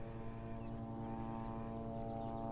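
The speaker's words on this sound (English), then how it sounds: "I'd really love to get rid of that single engine plane" A single-engine propeller plane drones overhead in a quiet outdoor setting, a steady low harmonic hum that stays constant and fairly faint with no voices.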